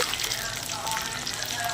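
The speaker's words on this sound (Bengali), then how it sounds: "একদিকে যে গোল গোল আলু ভাজা বসিয়ে দিয়েছি" Small round potatoes frying in hot oil give a dense, even sizzle that fills the short stretch, close and steady with no clear talk over it.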